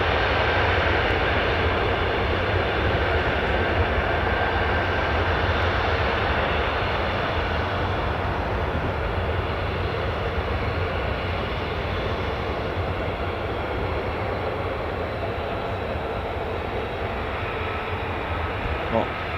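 F-35 fighter jets taxi at RAF Lakenheath, a constant low engine rumble and hiss heard from a distance, with a voice talking over it throughout.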